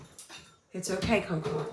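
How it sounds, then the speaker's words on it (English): An older dog barks and whimpers in short bursts close by, with a person speaking over the sounds. "My older dog is barking."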